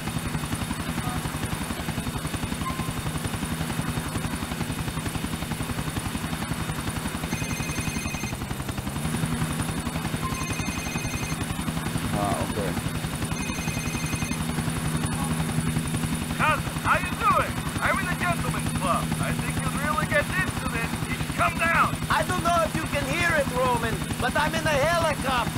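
Helicopter in the video game GTA IV, a steady rotor drone running the whole time, with brief beeps and a louder rattle of game noise toward the end; someone talks over it.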